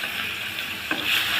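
Pieces of silver carp fry in hot oil with a steady, dense sizzle and a brief stirring stroke partway through, with no talking.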